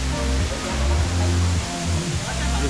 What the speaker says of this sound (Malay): Air terjun nampak penuh air ni.